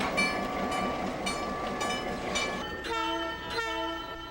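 A very old box cab electric locomotive at a railway museum, its steady rumble joined by a loud tonal horn blast near the end that sounds twice, close and with no talking.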